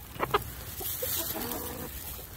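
A broody hen sitting on eggs in a barn gives a couple of short, low clucks near the start, then a soft, drawn-out grumbling murmur, close and quiet.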